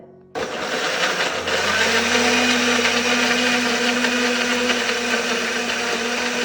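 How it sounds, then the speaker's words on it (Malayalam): A mixer grinder blending mango whirs loudly and steadily after starting abruptly, its motor running at full speed as it blends without pause. "നമ്മൾ ഒരുമിച്ച് മിക്സിയിലിട്ടിട്ട് അടിച്ചെടുക്കാം"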